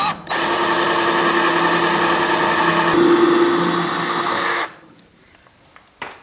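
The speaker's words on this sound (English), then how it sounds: "we'll just drill an 1/8 inch hole through both pieces" A power drill whines steadily at high speed for about four seconds, boring an eighth-inch hole through two metal pieces, pitch shifting slightly under load, then stops abruptly, followed by light handling noises.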